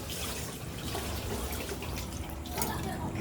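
Dishes being washed under a running water tap at a sink, a steady splashing stream with faint clinks throughout, close and continuous with no talk.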